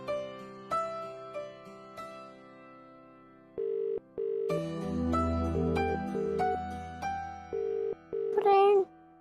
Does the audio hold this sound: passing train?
no